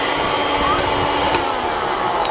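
A Miyko MC10 1000-watt electric spice grinder runs at full speed, giving a loud, close, continuous high-pitched motor whir that holds steady throughout.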